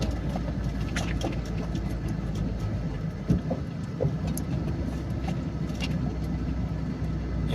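A heavily loaded, somewhat weak truck climbs a slope on the road through Castilla, Sorsogon. Its low engine drone holds steady and fairly loud the whole way, with road rumble and no talk.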